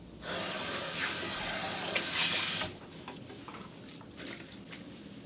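Hair color rinsed out under running water at a salon sink, a loud steady spray for about two and a half seconds, then quieter dripping and squishing of wet hair.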